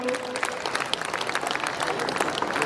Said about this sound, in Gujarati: તાળીઓથી વધાવશો.